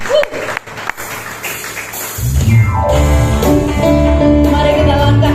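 A church congregation at a JKI worship service in Surabaya breaks into loud, sustained cheering and applause that swells after a brief quieter start and continues under music.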